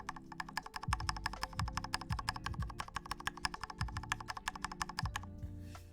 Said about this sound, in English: Stabilized keys do sound good.